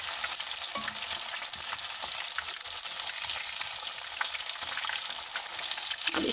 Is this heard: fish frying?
yes